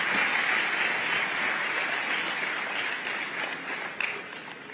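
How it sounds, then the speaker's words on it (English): An audience gives a round of applause at a live interview event, a steady broadband clapping that holds fairly constant and thins slightly toward the end, with no talk over it. "I think that calls for a big round of applause."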